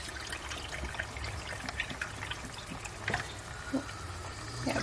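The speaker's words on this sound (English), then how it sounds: "I'm going to add my veggie broth." Veggie broth pours into a pot while cooking, giving a steady, moderately quiet liquid trickle and splash that runs continuously with a few small clinks, no talking.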